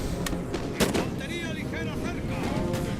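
Musket volleys in Napoleon: Total War, a dense crackle of gunfire with a sharper burst near the start, over steady battle din while someone talks excitedly.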